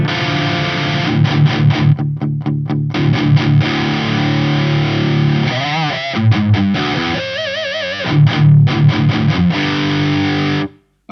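Electric guitar played through a Marshall ShredMaster reissue distortion pedal into an amp, loud and saturated, with sustained chords, chugging stops, and wavering bent notes, then an abrupt cut at the end.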